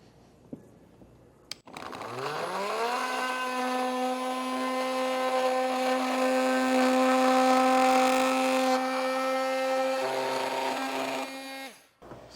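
A power tool spins up and cuts through plastic trim on a 2025 Acura MDX during a Curt Class III trailer hitch install, holding a steady loud whine for about ten seconds before winding down, with a few clicks before it starts.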